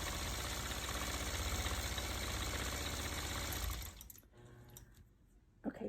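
A long-arm quilting machine stitching a disappearing nine-patch quilt, a steady fast mechanical whir with rapid needle pulsing for about four seconds, then stopping into near quiet with a few soft clicks.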